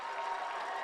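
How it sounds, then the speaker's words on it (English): Home crowd of fans on the far side of a high school football field cheering for the Colleyville Panthers, a brief, fairly faint wash of applause and cheering. "The Colleyville faithful stand on the far side and cheer for their Panthers"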